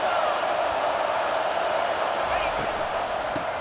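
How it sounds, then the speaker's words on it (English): Stadium crowd noise swells in a steady, loud roar during an EA College Football 25 game, the Central Valley Grizzlies against the Auburn Tigers, behind the play-by-play talk. "It is getting loud as this crowd tries to help its defense"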